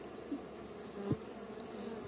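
Istrandja honey bees hum at a colony during hive care, a close, continuous low buzz with one bee briefly passing louder near the middle.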